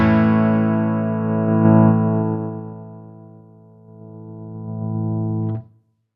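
A sustained distorted electric guitar chord through a Fractal amp processor's reverb block, ringing with rich harmonics; its volume swells, dips and rises again as the output level changes, then the chord is choked off abruptly.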